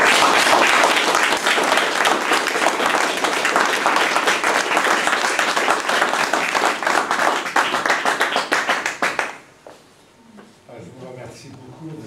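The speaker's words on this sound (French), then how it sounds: "je propose que nous vous applaudissions pour vous remercier de votre présence" An audience applauding a guest at an art event in Dives-sur-Mer, loud dense clapping that carries on for about nine seconds, then stops abruptly, leaving a quiet room and a voice beginning to speak.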